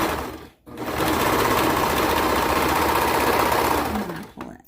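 A sewing machine stitches a neckline seam on a sleeved peplum top, a fast even mechanical chatter that starts after a brief pause and runs steadily before slowing to a stop.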